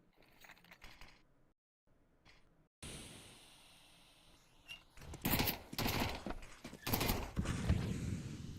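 MAC-10 submachine guns fire in Counter-Strike 2, with short bursts of rapid gunfire arriving in clusters after quieter mechanical clicks and a brief silent gap.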